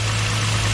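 A car engine idles with a steady low hum and constant drone, close and unbroken, during a battery test.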